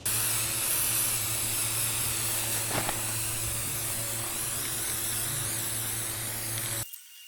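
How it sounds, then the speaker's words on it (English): Spray paint hisses steadily onto a DIY kayak trailer rod tube outdoors in the heat, one continuous close spray lasting several seconds before cutting off abruptly. "now we're gonna paint the other side of this thing"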